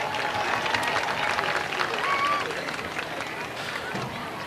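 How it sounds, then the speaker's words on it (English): Applause from a crowd at a high school football game against Kaufman, greeting a cross-country runner: steady, moderately loud clapping with crowd noise, fairly distant and continuous throughout. "Landon Thornton, give him a round of applause"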